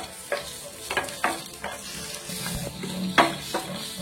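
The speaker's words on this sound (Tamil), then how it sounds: "இப்போ அந்த சுரக்காயும் வறுக்கணுமா?" Bottle gourd fried with coconut and garlic in oil for a chutney, a soft sizzle under a series of distinct spoon scrapes and stirring knocks against the pan, close up.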